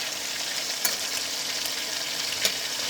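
Fish frying in oil in a pan, a steady close sizzle with a couple of brief clicks from the pan, no voices.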